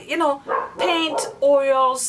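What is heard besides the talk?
dog barking upstairs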